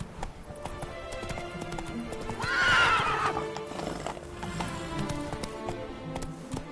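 Roach, the horse in The Witcher 3, gallops with steady clip-clop hoofbeats and lets out a loud whinny midway, over a constant game ambience.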